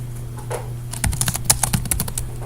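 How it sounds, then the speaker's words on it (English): Rapid typing on a computer keyboard, a burst of close, crisp key clicks rising in density after a quieter start, with a faint steady hum in the background and no talk. "Why am I typing?"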